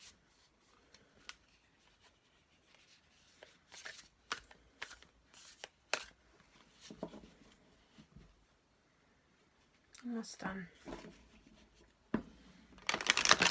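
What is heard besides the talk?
shuffling a deck of cards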